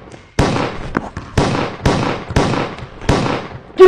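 Gunshots in a comedy skit: about six sharp, loud blasts in quick succession, each with a short decaying tail, close and alone without talk.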